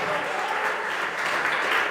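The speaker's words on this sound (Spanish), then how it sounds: "bríndele un fuerte y bonito aplauso para el Cristo de la gloria" A church congregation applauds the Lord during a worship service, a dense, steady wash of clapping from many hands that fills the room without pause.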